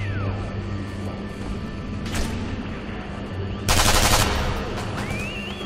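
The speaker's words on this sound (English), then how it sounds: "Get out the MP40 there" An MP40 submachine gun fires in a World War II shooter video game, with short, loud bursts of rapid shots, the strongest a sustained volley near the end, over a busy game background.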